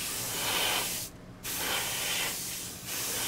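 An airbrush sprays paint onto a model vehicle panel in two long, loud, steady hissing bursts separated by brief pauses, close up with no talk.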